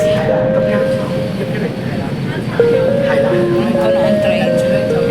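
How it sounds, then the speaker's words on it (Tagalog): A crowded Hong Kong train carriage rumbles along steadily with the hum of rolling wheels, while passengers talk in the background and tonal chimes or announcements ring out. "Punong-puno ang train"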